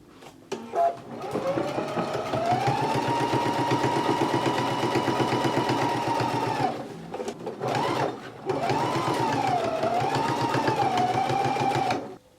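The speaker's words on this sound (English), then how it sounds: "let's go ahead and stitch on the lining to the neck edge at a 5/8 of an inch seam allowance" Sewing machine stitching jacket lining onto the neck edge, a loud close motor whine with rapid needle chatter running almost the whole time, briefly dipping and restarting midway, with some talking over it.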